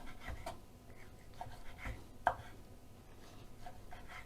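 Soft, irregular taps of a knife dicing green pepper on a cutting board, quiet and close, with one sharper knock partway through.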